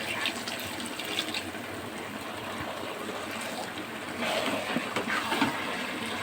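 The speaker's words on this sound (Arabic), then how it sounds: "هنزود مغليه، مش هنزود ميه برد، ميه مغليه" A steady, full rush of boiling water pouring into a pot on high heat, continuous and close, swelling slightly louder toward the end.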